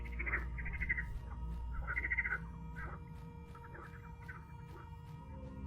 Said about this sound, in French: Les grenouilles! Les magnifiques grenouilles!